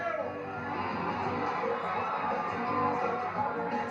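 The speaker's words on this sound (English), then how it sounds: "Good crowd here, and they are enjoying the barrel racing." Rodeo crowd at a PRCA event in Eugene, Oregon cheering during barrel racing, a steady wash of distant voices and whoops holding at a constant level throughout.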